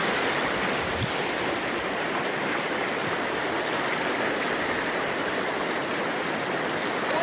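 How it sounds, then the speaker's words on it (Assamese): A river at Grassland flows with a constant, close, full rushing roar, steady throughout with no voices. "এয়াই চাই লওঁ, এয়াই গ্ৰাছলেণ্ডৰ নদীটো"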